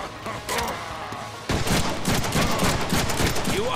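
A sustained volley of gunfire in a Deadpool video game erupts suddenly after quieter noise, with rapid repeated shots rattling continuously at close range.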